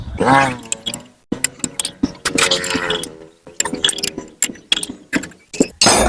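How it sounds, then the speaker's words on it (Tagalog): Bolts being loosened with a ratchet on an electric motor that hums but will not turn, giving a close, loud series of sharp clicking bursts and metallic rattles in quick irregular runs. "tanggalin natin yung bolt na to. Tanggal ng tanggalin natin yung bolt guys"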